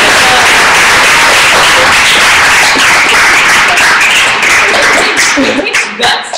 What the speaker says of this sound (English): clap it up for Stacy